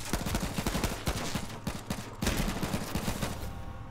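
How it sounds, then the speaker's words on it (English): Gunfire in the video game H1Z1: rapid bursts of shots crackle continuously, a dense run of sharp reports at moderate level with no break. "And there's people shooting."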